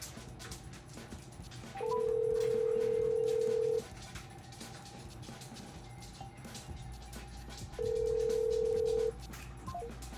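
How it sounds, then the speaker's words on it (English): A Samsung Galaxy S9+ rings on an outgoing call, two steady ringback tones about two seconds and one and a half seconds long, separated by a pause, over faint background hiss. "Let's try to make another phone call."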